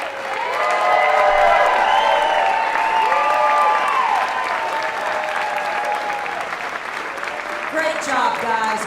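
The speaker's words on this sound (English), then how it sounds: "Roy and Jana, would you please stand up for a round of applause?" Sustained audience applause with some cheering fills a community charity dance-competition event hall, loud and steady for the whole stretch with a few whoops and voices rising near the end.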